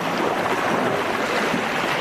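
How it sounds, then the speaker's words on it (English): Storm winds driving rough, high swells across a lake, heard as a steady broadband roar of wind and churning water with no clear breaks, loud and close throughout. "The fast-moving storm rolled in, bringing with it strong winds, rain, and high swells."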